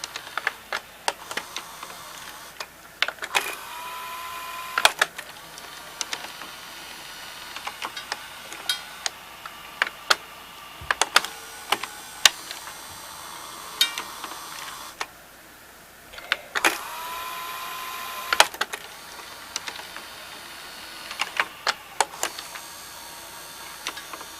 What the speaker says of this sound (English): That reel motor, that spindle should be turning